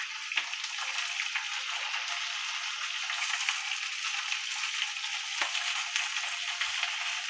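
Pointed gourd (potol) fries with salt and turmeric in a pan, giving a continuous close hiss of sizzling oil with faint crackles and the odd stir, no voices.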